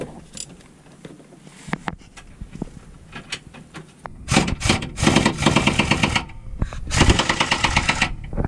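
A pneumatic impact gun rattles on the lower control arm bolts of a Mitsubishi Lancer GTS, starting after a few quiet seconds of faint clinks, then hammering in loud, close bursts with brief pauses between them.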